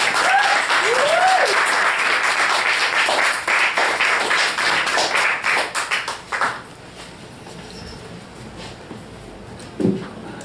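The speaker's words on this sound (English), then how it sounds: "Let's give him a round of applause." Audience applause at a poetry reading in KGB Bar, New York City, dense clapping from a small crowd that thins into scattered claps over about six seconds, with a brief voice near the start.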